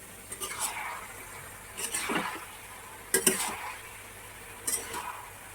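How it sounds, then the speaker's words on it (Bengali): A pot lid comes off and a spoon stirs a vegetarian vegetable curry, scraping and clinking against the pot in four separate short bursts spread out with quiet gaps between them, close by. "এখন একটু ঢাকনাটা তুলে দেখে নেই রান্নাটা কি হচ্ছে"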